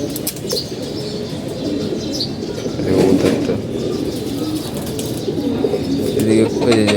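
Pigeons in a loft coo and flap their wings amid soft chirps, with someone speaking over the birds throughout.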